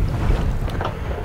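Gusty wind buffets a sailboat at sea before dawn, a close, rumbling roar of wind noise with faint water wash underneath.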